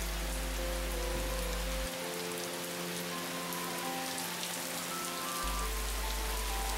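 Rain falls in a steady, hissing patter over everything, while sustained low musical tones and a deep drone shift slowly underneath.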